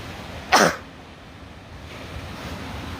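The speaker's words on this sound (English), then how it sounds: "Hold on, I'm gonna sneeze." A single short sneeze bursts out close to the mic at a beach, over a steady low wash of surf and wind.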